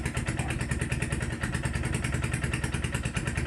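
An old Bolens garden tractor engine, after sitting for 40 years, idles steadily and smoothly, a fast even putter with a light mechanical clatter, close by and fairly loud, with no voices.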